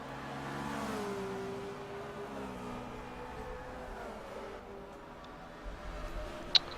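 A V8 Supercar engine from a racing video game revs and whines toward the finish line, its pitch rising and falling through gear changes, moderately loud with a soft click at the end.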